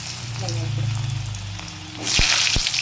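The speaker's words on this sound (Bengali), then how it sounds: "প্রথমে আলুটাকে একটু হালকা করে ভেজে নেবো" Potatoes frying lightly in a pan after the tempering give a soft, continuous sizzle beneath a low hum. The frying flares suddenly louder toward the end, with a couple of sharp knocks as the pan is stirred.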